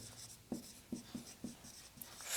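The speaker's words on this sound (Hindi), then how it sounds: "तो सबसे पहले मैं हेडिंग लिख देता हूँ" Pen or marker handwriting a heading on a page for a biology lesson, heard as a few short, quiet scratchy strokes spaced about half a second apart, close and alone.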